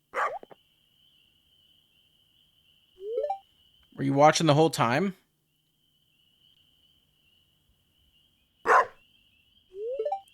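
A dog in the farming video game Stardew Valley gives a short burst of several quick, clear barks, with a soft insect-like chirp recurring in the quiet background and a voice speaking in a separate moment.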